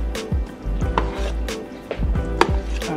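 Macaroni noodles get stirred together with cheese sauce in a pot, a series of thick, wet, squelching strokes with soft clunks of the utensil against the pot, close and fairly loud, with no voices.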